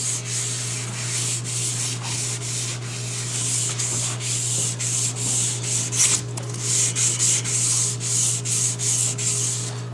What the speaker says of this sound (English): So I give it a quick sand just to blend everything together.